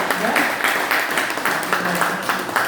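An audience at a Korean panel discussion on the Korea-US alliance breaks into loud, steady applause, a dense wash of many hands clapping that carries on through the whole moment, close and with no voices over it.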